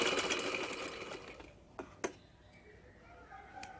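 A sewing machine running fine topstitching over the seams of a kurta: a close, steady mechanical whir that fades after about a second and a half, leaving a few sharp ticks and clicks of the machine.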